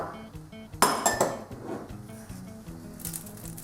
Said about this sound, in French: je vais mélanger tous mes ingrédients dans un grand plat